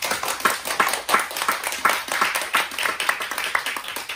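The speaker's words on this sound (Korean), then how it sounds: "우리 하나님께 우리 영광의 박수 함께 올려드립시다." A church congregation claps together in praise during a worship service, a steady run of close, dense handclaps filling the room for several seconds with no one speaking over it.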